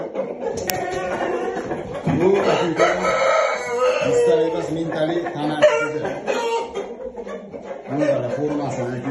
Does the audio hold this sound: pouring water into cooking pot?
no